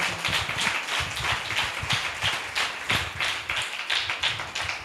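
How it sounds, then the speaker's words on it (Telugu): A church congregation at Sunday worship claps loudly together, a dense, sustained run of sharp claps that fills the space for several seconds without talk. "గట్టిగా చప్పట్లు కొట్టే దేవుని మహిమపరుద్దాం"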